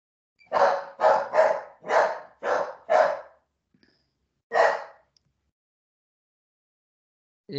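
A dog barks nearby, breaking into a lecture: six sharp barks in a quick series, a pause, then one more bark, followed by silence.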